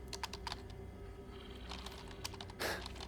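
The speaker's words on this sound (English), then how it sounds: "Stop typing." Fingers clatter on a computer keyboard in quick, uneven bursts of key taps, close and fairly quiet, closing with a sharper cluster of strokes.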